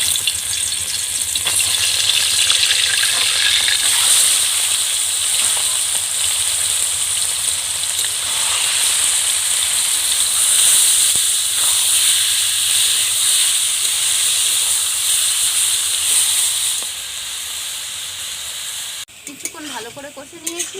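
Marinated chicken frying in hot oil in a wok for chicken chow mein, a loud, dense and continuous hiss and sizzle close by that eases slightly near the end, followed by a few clatters.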